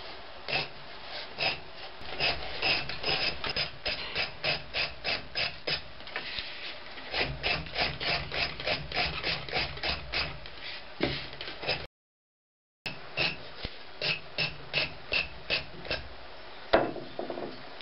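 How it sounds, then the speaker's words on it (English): A drywall knife scrapes across a block of ice, carving a shallow depression to shape a lens; rhythmic rasping strokes repeat steadily up close, with a brief silent pause before the scraping resumes. "This is a drywall knife."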